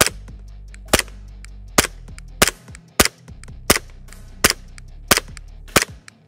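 Umarex Glock 17 Gen 5 green gas airsoft pistol firing 0.2 g BBs on standard green gas, about ten sharp, loud snapping shots at a steady, roughly half-second rhythm, with no talking.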